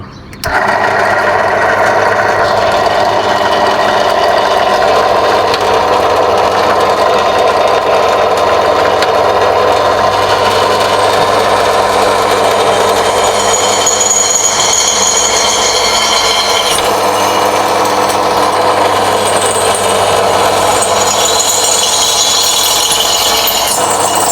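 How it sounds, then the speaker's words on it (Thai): A power drill bores steadily through a steel bar at an angle near its corner, making a continuous loud whirring grind with a slight rasp that runs unbroken for about twenty-four seconds, without talk. "เดี๋ยวเราเจาะ เหล็กตัวนี้ เจาะให้อยู่มุม ไม่ต้องกึ่งกลาง"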